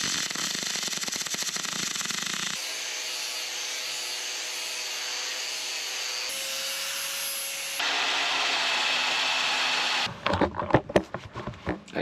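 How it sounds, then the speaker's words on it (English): Welding on 316 stainless steel for a boat anchor roller gives a steady close hiss that shifts tone across several continuous passes, ending in a burst of uneven clattering. "it's looking like this is gonna be the last weld"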